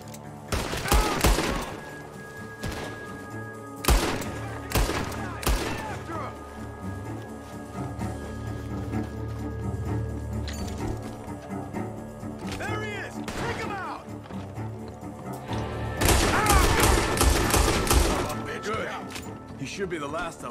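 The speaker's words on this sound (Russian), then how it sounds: "Стреляет из того амбара" Gunfire comes from a barn in Red Dead Redemption 2: loud, cracking rifle shots in scattered bursts, with a dense volley near the end and voices talking between them.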